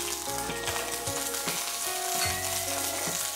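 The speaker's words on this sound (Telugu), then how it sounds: "నూనె వేడెక్కిన తర్వాత 1/2 పచ్చిమిర్చి," Green chillies frying in hot oil for pudina kothimeera chutney, a steady close sizzle with crackling pops and scraping stirs, no voices.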